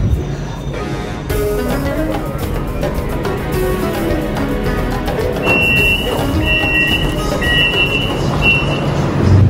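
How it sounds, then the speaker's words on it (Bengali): A commuter train pulls into a station near Kuala Lumpur, a steady rolling rumble with metallic squeals and whistle-like tones building toward the end, fairly loud and continuous with no talk over it. "এই তো ট্রেন চলে আসছে,"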